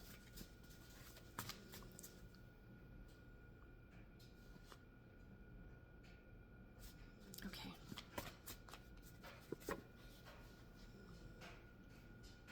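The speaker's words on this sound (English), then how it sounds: "I'm going to pull one more card for this section." A deck of cards for an intuitive card reading is shuffled and cards are drawn. Soft, close riffling and papery flicks come in quick bursts, faint and intimate, while a person talks.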